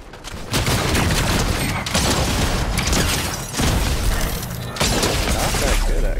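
A primal shotgun firing in Fortnite, a few loud blasts each followed by a crashing tail, spaced about a second apart over steady game noise.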